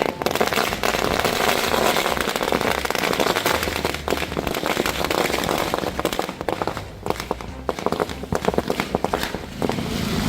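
Firecrackers bursting at a crowded street victory celebration at a city circle, a dense, continuous crackle of rapid pops that fills the whole stretch, loud and close.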